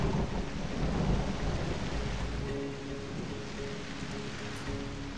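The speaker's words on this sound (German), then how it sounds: "Boah, schön feinste Gewitter hier, du." Thunderstorm in the survival game Fountain of Youth: a deep rolling rumble of thunder over steady rain, loudest early and easing off, with no voices.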